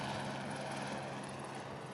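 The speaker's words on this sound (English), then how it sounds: "as you can hear the helicopters flying above us right now" Helicopters hover above the Formula E grid at Misano, a broad, steady rotor and engine roar filling the air continuously, loud and without pause, with no voices.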